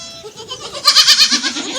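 Goats bleating at a farm beside a cotton field, several overlapping calls that grow louder and more insistent partway through, with a wavering, pulsing quality.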